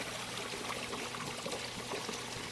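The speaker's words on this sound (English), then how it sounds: "Fountain cams give us a nice shot of the waterfall." Water pours and trickles down a fountain waterfall in a steady, unbroken wash, moderately faint and continuous with no voices.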